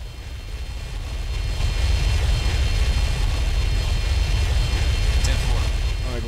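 A firefighting plane in the Emergency 4 game sweeps low to drop water, a loud broad roar of engine and rushing noise swelling in and holding steady, with people talking over it.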